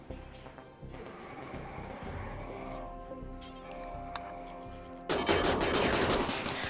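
Automated turrets open fire in the RimWorld colony game, a dense burst of rapid gunfire breaking out near the end over an ongoing background of game sounds and music.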